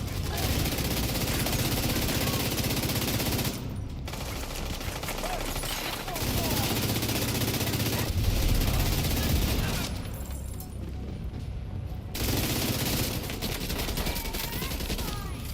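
In The Division 2 shooter game, dual submachine guns fire in long rapid bursts, dense loud gunfire with brief pauses, a voice talking underneath at times.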